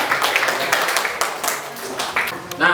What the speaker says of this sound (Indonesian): tepuk tangan dulu untuk jawaban